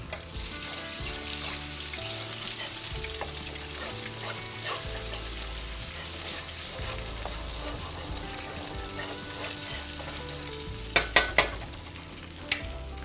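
Two eggs fry in hot oil in a pan, giving a quiet, steady sizzle with soft stirring and scraping, and a few louder clicks of utensil against the pan near the end.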